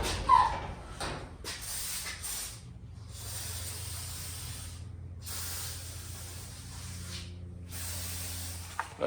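A steady aerosol hiss sprays continuously for several seconds during garage door repair, pausing briefly a few times, up close over a low background hum.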